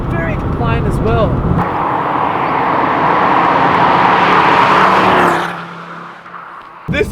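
A MK2 Ford Focus RS five-cylinder hot hatch driven hard, its engine roar building to a loud, sustained note before fading away, with someone talking over the start.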